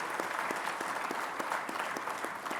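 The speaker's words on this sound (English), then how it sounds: "Can we have a massive round of applause for that, please?" Dense applause from a conference audience at a business networking event, with a continuous wash of many hands clapping. A few distinct close claps stand out at a regular rhythm.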